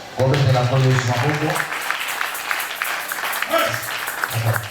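A church congregation at a Sunday service bursts into loud sustained applause, mixed with voices and cheering, which fades into scattered clapping as a voice speaks over it.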